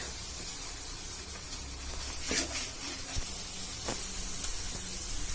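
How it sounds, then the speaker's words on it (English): Mutton liver frying in a pan with a little added water, a steady close hiss and sizzle with occasional sharper spits and pops, with no one speaking. "I'm going to fry it with by putting a little water, pouring a little water in it, so it doesn't get burnt"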